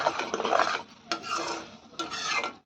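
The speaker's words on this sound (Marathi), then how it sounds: "आणि ते छान हलवून आपल्याला मिक्स करायचं आहे तर आता आपण याच्यामध्ये खोबरं घालून घेऊया" Grated fresh coconut is stirred into dissolved sugar syrup for coconut vadi, a rough, gritty scraping and rubbing in three close, steady strokes with faint sizzling underneath.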